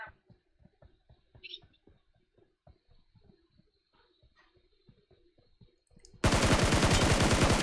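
SCAR-L fire in PUBG Mobile: a series of faint, distant shots ticks along for several seconds, then a loud close spray of rapid automatic fire bursts in at the end.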